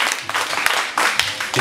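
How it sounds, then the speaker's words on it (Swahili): A church congregation clapping for Jesus during a service, a short loud burst of applause that stays dense throughout with a few sharper claps standing out. "Sasa ndio mchapia Yesu makofi."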